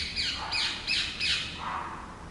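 Several sharp bird squawks ring out in quick succession outdoors, close and fairly loud, followed by a softer chirp.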